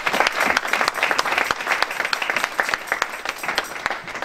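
A church congregation applauds at a French-language service, a dense, loud burst of many hands clapping that continues steadily for several seconds with a faint murmur of voices.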